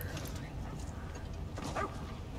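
A dog in the video game TES Online gives a few short barks and yips over a faint game backdrop, with quiet talk mixed in.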